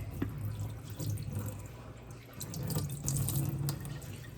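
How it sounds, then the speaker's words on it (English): Water pours steadily into a sink, a continuous splashing rush with faint drips, close by and without talk. "what I'm doing now is just pouring that water out."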